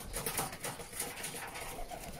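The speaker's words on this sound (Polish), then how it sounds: "Tutaj wchodzimy do gołębniczków dla młodzieży." Young domestic pigeons cooing in a loft, soft repeated throaty coos from several birds close by, with a steady low murmur and light rustling behind.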